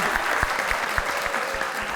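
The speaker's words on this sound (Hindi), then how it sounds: "भाई पहले तो बहुत सारी तालियां हो जाएं वीना जी के लिए" A talk-show studio audience applauds actress Veena Malik with brisk, close hand claps whose individual strikes stand out at a quick, fairly regular pace over a steady bed of clapping.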